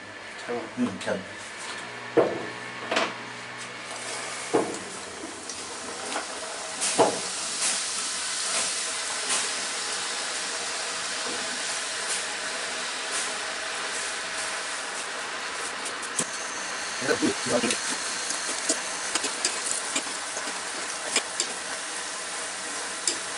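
Namak para dough pieces frying in medium-hot oil, with a continuous bubbling hiss and sizzle broken by scattered clinks and scrapes of stirring.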